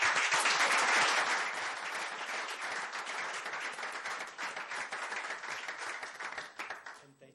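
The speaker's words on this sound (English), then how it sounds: "if you wouldn't mind giving a round of applause to all of the employees of the police department" City council meeting attendees in Burlington applaud police department employees, loud dense clapping at first that gradually thins into distinct individual claps before tapering off at the end.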